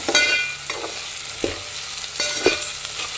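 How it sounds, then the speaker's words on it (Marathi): Ridge gourd sizzling in a pan with salt while a spatula stir-fries it, giving sharp scraping strokes about every second over a steady, moderately loud hiss. "आता हे व्यवस्थित आपण परतून घ्यायचं आहे बघा"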